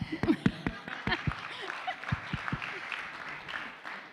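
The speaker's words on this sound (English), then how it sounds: "everyone give him a round of applause" Applause at a fireside chat event, beginning with a few distinct, separated claps and softening into a lighter patter with some chuckling mixed in.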